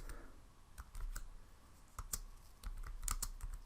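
Quiet, irregular keystrokes tap on a computer keyboard while a line of a first VBA program is typed, with short bursts of clicks and brief pauses between them.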